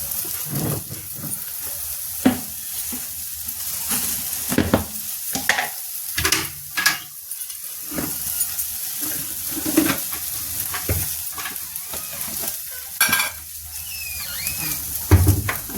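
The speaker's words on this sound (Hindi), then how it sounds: "अभी देखिए इधर आलू हमारी भून रही है" Potatoes and onions fry in a pan with a continuous sizzle, broken by frequent stirring scrapes and clatters of varying loudness close to the microphone.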